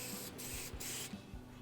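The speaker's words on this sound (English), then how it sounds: "using Craft Bond, you're going to spray the back side of each of these pieces of sandpaper" Craft Bond spray adhesive hisses from an aerosol can onto the back of sandpaper strips for a guitar-building job, in two or three short close bursts separated by brief pauses.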